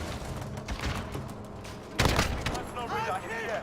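AK rifle gunfire in an online shooter video game, rapid shots and bursts with a sharp loud crack midway, amid busy game noise and a talking voice.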